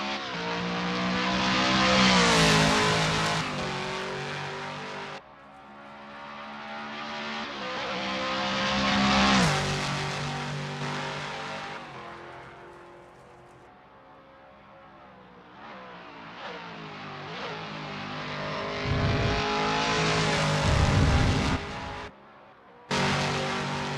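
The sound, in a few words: roaring race car engines in Assetto Corsa, a video game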